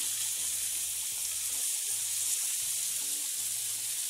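Chicken breast frying in a pan for Cajun chicken pasta gives a steady, close, bright sizzle that runs unbroken throughout, with no one talking.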